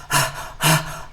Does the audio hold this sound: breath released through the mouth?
yes